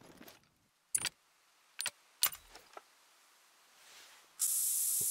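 Scent spray puffed on in the hunting game theHunter: Call of the Wild, heard as a steady hissing spray near the end after a few short clicks and rustles, fairly loud and close with no talk.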